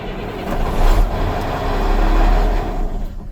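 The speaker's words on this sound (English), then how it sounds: "Now you can hear the truck coming to life" A truck engine turning over on a jump pack and catching, a loud low rumble that swells and rises as it comes to life, with no talk over it.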